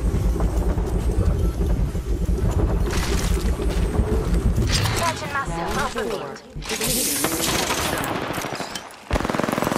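Automatic gunfire rattles almost continuously in an Apex Legends match, loud and dense with brief gaps, alongside game effects and talk.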